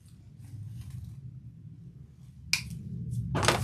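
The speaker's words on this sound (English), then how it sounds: "Trim the zip tie." A zip tie gets trimmed with two sharp, close snips while a lantern wreath on a moss frame is being made. The snips stand out against a quiet low hum.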